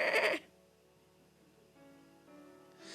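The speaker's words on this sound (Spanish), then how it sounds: "ahora hacía el mismo sonido que las ovejas" Sheep bleating loudly at the start, a short, strong, wavering bleat in the first half second, followed by quiet farmyard background with faint tonal hum and another soft bleat rising at the very end.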